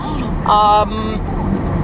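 Steady engine and road rumble inside a moving car, an older used car, with a brief tonal whine in the middle of the short stretch.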